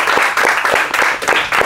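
An audience on a television talk show breaks into dense, steady applause, a continuous wash of many hands clapping loudly and close with no voices over it.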